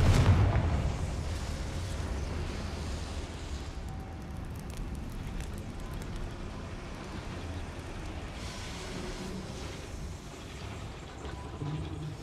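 A Confringo fire-explosion spell in Hogwarts Legacy, a deep rumbling blast at the start that fades into a long low roar with crackling debris and ambient game noise.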